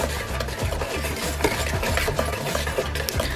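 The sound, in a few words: mixing potato fingers with spices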